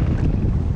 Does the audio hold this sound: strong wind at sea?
yes